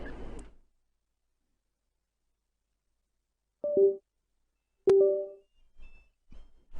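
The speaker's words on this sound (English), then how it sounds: "So you'll hear the tones of the transmitter restarting." Two short electronic tones from a Flysky G7P radio transmitter restarting sound a second apart after a long silence, clean and close, followed by faint clicks.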